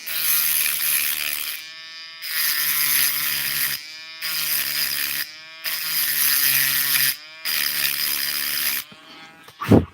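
A broken Dremel rotary tool grinds in four loud, close bursts of high-pitched buzzing whine, each separated by a short pause. A brief clatter follows at the end.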